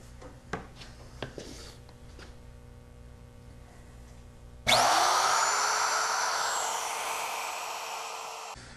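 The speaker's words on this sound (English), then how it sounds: "I'm using a 1/2 inch straight bit on the router, and I've got it set at 1/8 inch deep" A wood router fitted with a 1/2 inch straight bit, set 1/8 inch deep, spins up to a loud high whine and cuts wood freehand for a clock project, after a few light knocks and taps.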